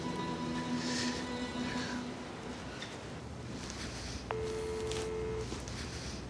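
A telephone being dialed in a Turkish drama scene, with a short run of steady keypad tones, then a longer single tone, moderately close over a soft room background.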